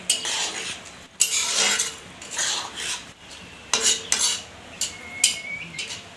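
A small-fish curry with spinach is stirred in a pan, with repeated scraping and clinking of a metal utensil against the pan and a faint sizzle underneath.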